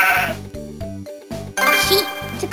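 A sheep in the Bubble Guppies DS video game bleats several times in quick succession, loud and close, each call a wavering, nasal cry.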